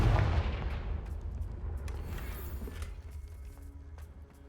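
A Confringo fire spell blasts in Hogwarts Legacy, a loud booming burst at the start that decays into a rumbling, crackling roar lasting several seconds.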